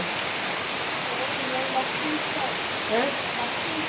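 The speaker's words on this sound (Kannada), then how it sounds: "ಅಯ್ಯೋ ಜೋರು ಬರ್ತಾ ಉಂಟಾ ಮಳೆ" Heavy rain pours down steadily, a dense even hiss that fills the whole stretch, with faint voices barely audible beneath it.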